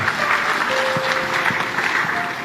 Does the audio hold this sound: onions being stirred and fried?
no